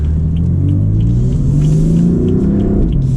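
A BMW M4 Convertible engine rumbles loudly and steadily from inside the car while gears are shifted manually with the paddles, its pitch rising and easing across about three seconds.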